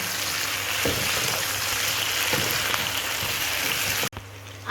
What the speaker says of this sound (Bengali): আদা জিরা দিয়ে ভাজা ভাজা হয়ে গেছে